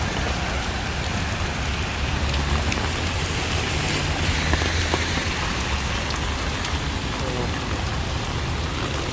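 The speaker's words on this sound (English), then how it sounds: "if it just rains enough, it just starts flooding" Heavy monsoon rain pours steadily in Bangkok, Thailand, a dense, continuous hiss of drops hitting surfaces, with no voices and no break in the downpour.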